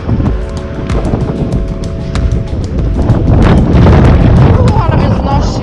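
Strong gusts buffet the microphone while a cyclist rides through the streets of Reykjavik, and the deep roaring rumble swells louder partway through, with clicks and bumps from the bicycle running underneath.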